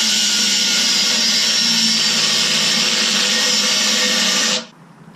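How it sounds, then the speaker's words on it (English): A cordless angle grinder cuts through a metal flange with a loud, steady high-pitched whine and grinding rasp that runs unbroken for over four seconds, then stops abruptly as the tool spins down. "I'm going to try and use this angle grinder to cut this flange off real quick"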